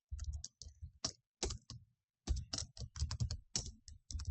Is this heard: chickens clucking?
no